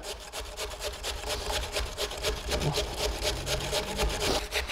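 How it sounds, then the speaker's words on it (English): Russet Idaho baker potatoes are grated on a box grater, giving a continuous run of quick, scratchy rubbing strokes, close and fairly quiet, with no talk. "I'm just gonna take on a box grater and grate them down"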